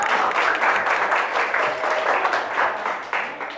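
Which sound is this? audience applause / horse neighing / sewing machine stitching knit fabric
audience applause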